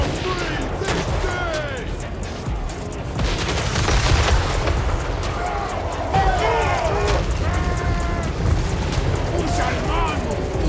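Rifle volleys from modded dwarven gunships in Warhammer 3 battling Chaos Dwarf units, a busy din of crackling shots and booms under someone talking throughout.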